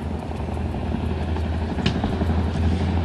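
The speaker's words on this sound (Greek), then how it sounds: "Τα επιθετικά ελικόπτερα, ομάδα επιθετικών ελικόπτερων κινείται προς την κατεύθυνση του τακτικού συγκροτήματος" Greek army attack helicopters fly during a military exercise, giving a loud, continuous rotor drone with a steady low thrum and no talking over it.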